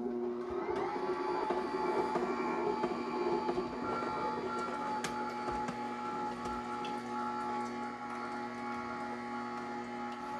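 Kalado cold press juicer on hard mode crushing pineapple chunks, a continuous low mechanical rumble and grinding hum with faint squeaks and one sharp click, steady and close, no speech.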